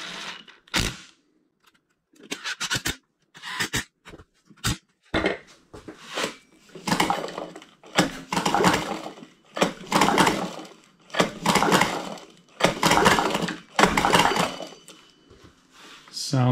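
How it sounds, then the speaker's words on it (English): A Honda ATC125 engine is turned over by hand after a high-compression piston rebuild, giving irregular mechanical clunks and cranking bursts close up with quiet gaps between them, and someone speaks between turns. "let's turn this thing over a couple times and make sure all heck isn't going to break loose"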